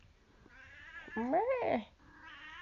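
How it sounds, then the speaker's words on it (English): A pet cat lets out a loud, drawn-out, wavering meow up close. Softer human voice sounds come before and after it. "That's my cat"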